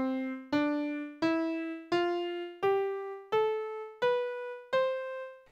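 An ascending eight-note scale in an alternative tuning system, played with a harmonically rich synth tone; evenly spaced notes each attack sharply and fade slightly, with no voices or other sounds.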